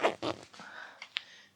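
A zipper on a CRZ winter hoodie is pulled up in a few short, raspy bursts, close and fairly quiet, with brief pauses between strokes and no talk.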